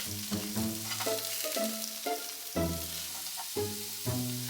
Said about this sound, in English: Pan fry the tofu until all sides are golden.